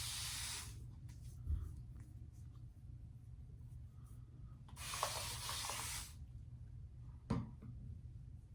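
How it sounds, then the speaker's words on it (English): Spray bottle misting a face after a shave, two clear hissing bursts of about a second each, close and distinct, plus a brief third spritz, with quiet pauses between. "let's get sprayed down and see where we need to do a cleanup pass"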